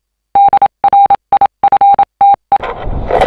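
A metal detector sounds its signal tone while sweeping a friend's farm: a series of sharp, loud, mid-pitched beeps in quick bursts, then a burst of rustling noise as the coil moves.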